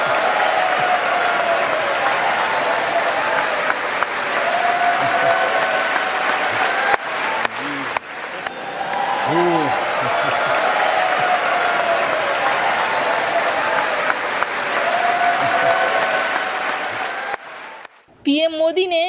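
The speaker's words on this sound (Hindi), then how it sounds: "जिसके बाद सदन में ही खड़े होकर लोग तालियां बजाने लगे" Sustained, loud applause fills the US Congress chamber after Prime Minister Modi's speech, steady clapping from a large standing audience with some voices mixed in, ending abruptly near the close.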